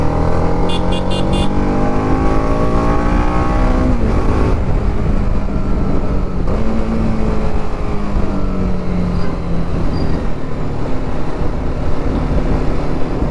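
A TVS Apache RR310 motorcycle revs steadily as it accelerates on the throttle, its engine note climbing and shifting over a constant rush of wind and road noise, loud and close throughout.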